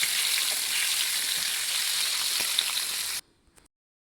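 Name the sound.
chicken frying on a tawa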